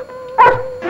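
A dog gives one sharp, loud bark close by, breaking in after a brief quiet hum.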